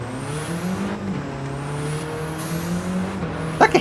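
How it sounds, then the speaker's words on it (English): Race car in Gran Turismo 7 holds a steady engine drone with a thin high-pitched hiss over it as nitrous is engaged, the pitch rising slightly, ending with two quick knocks. "I got a noise when the old when the nitrous is pushed."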